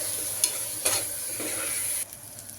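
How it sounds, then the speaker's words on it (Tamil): Spiced masala sizzles in oil for tomato rice and is stirred by hand. Several distinct scraping strokes cut through a steady close frying hiss, which drops noticeably quieter near the end. "மசாலாலாம் போட்டு எண்ணெய் பிரிஞ்சு வரணும்"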